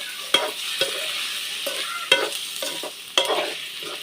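Spoon stirring fish frying in a pan for a Malvani village-style recipe, with a few distinct scraping knocks spread over steady, close sizzling and no talk.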